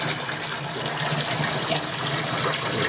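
Tap water runs into a tub being filled for a laundry rinse, a steady close gushing pour that continues without a break.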